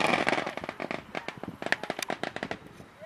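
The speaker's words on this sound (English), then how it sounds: "we're gonna light this whole pack, 100 pack of little dynamite with 3 bottle rockets" A 100-pack of small firecrackers set off with three bottle rockets on the Fourth of July, popping in a rapid, irregular string of sharp cracks that thins out toward the end, with no voices.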